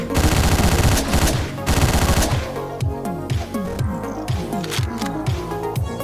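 Gunfire in the top-down shooter Hotline Miami, loud rapid volleys of shots in dense bursts that give way to a sparser run of sharp, evenly spaced reports.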